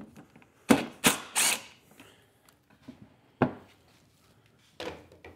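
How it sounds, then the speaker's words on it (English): A wooden shelf is pulled out of a van's fridge stack cabinet with notched poplar sides, producing a quick cluster of sharp wooden knocks and clatter, then scattered lighter taps and one more thud, close up. "I will temporarily take out this shelf here just so you guys can see."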